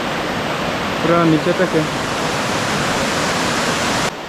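Elephant Falls waterfall in Shillong, Meghalaya pours as a constant, loud, hissing roar, with someone speaking briefly over it partway through.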